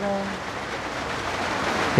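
Heavy rain falls steadily outdoors, a dense close hiss with a loud spatter near the end, while someone talks briefly at the start.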